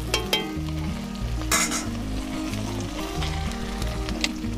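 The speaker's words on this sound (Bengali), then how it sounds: "তাহলে আমি এবার নেড়ে চেড়ে দেবো একটু। প্রায় ভাজা ভাজা হয়ে গেছে।" Chicken and onions sizzle in a pan for chicken kosha while a spoon stirs them, producing a continuous frying hiss with scraping strokes over a bed of background music.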